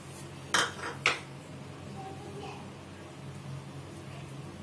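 Cardamom powder spooned into an earthen pot while making aam panna, two sharp close clinks of a spoon on the pot early on, then a quiet room hush.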